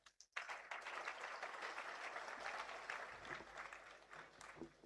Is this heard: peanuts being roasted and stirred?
no